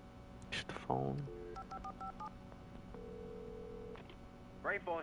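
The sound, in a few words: telephone dialing in video game Alan Wake Remastered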